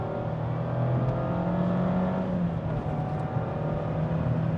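A 2024 Mazda MX-5 Miata ND3 Club RF being driven hard through a corner, a steady engine drone with slight pitch rises and falls as it pulls, heard from inside with road noise and no talk.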